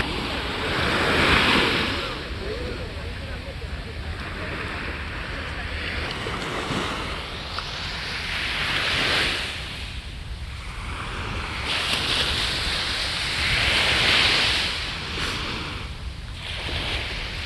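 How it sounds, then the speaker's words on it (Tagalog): Ocean waves roll in and crash in slow surges, a broad steady wash of surf with gusts of wind buffeting the microphone. "tunog ng alon."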